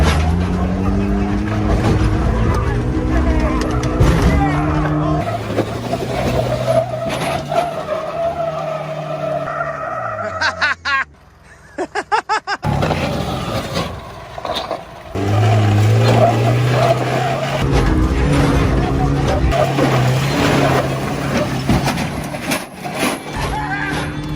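An off-road vehicle, its tire aired to a hard 90 psi, climbs a hill with a loud revving engine and spinning, skidding tires. The roar cuts out briefly midway, then surges back strong and sustained.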